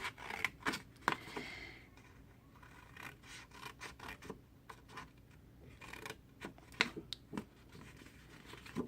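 A paper square is cut in half, heard as a quiet, close series of irregular scissor snips and rasping rubs, with short pauses between cuts.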